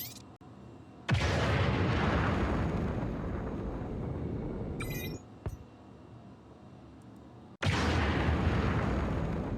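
A missile explosion in the space game Star Citizen, with loud, sustained roaring blasts near the start and end, a brief quieter stretch in the middle and a small metallic ping.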